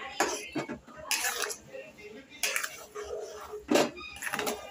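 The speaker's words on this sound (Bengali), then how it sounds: "এখন দেখুন, এটাকে আমি এইভাবে নাড়তে থাকবো।" A palm pudding mixture is stirred in a pot on a lit gas stove, giving intermittent scraping and clinking bursts of utensil against metal, close and moderately loud.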